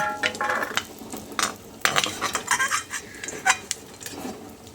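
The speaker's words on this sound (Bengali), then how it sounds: "এখন আমি এই চিনেবাদামটাকে তুলে একটা পাত্রের মধ্যে রেখে দিচ্ছি" A spoon scrapes and clinks against a kadai as fried peanuts are scooped into a bowl, a close run of irregular metallic scrapes and taps over a soft background sizzle, with no talking.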